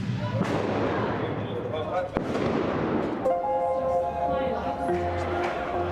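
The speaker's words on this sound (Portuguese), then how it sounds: "Seguem-se tiros que, nessa hora, eles não sabem de onde vêm." Several sharp cracks of gunfire ring out amid loud background commotion during the Israel–Hamas war, with a low rumble and a faint siren-like tone later.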